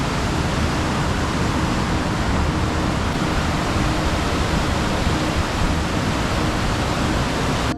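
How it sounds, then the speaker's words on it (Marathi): Massive torrent of water rushing out of the opened gates of Panshet dam, a loud, dense, continuous roar with no break and no voices. "हे पहा मित्रांनो पानशेत धरणातनं पाणी सोडलेलं आहे."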